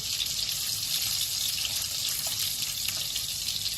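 Kadınbudu meatballs fry in hot oil with a loud, continuous, close sizzle that holds steady throughout.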